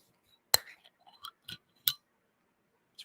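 A chilled glass bottle of mojito-flavored soju being opened, with a sharp crack of the cap followed by a few small clicks and clinks, close and alone in a quiet room.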